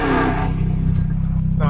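A Dodge Hellcat's supercharged V8 idles with a loud, steady low rumble, swelling slightly mid-way, as a voice speaks briefly over it at the start.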